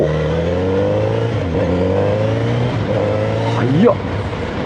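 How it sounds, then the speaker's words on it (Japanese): A Kawasaki Z900RS four-cylinder motorcycle engine revs up and down close by, rising to a sharp high-pitched peak near the end. "4気筒の音とこのレスポンスの良さにまだついていけないぞ"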